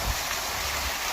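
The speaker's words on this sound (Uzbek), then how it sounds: "Mana bu yerda sharshara qilib qo'ygan." A small artificial waterfall at a pottery workshop in Gijduvon, giving a steady rushing splash of falling water, continuous and fairly close, with no talk.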